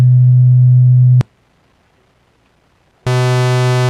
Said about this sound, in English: the first thing you'll notice is that it sounds like a square wave, and obviously that's because we have our Boolean logic running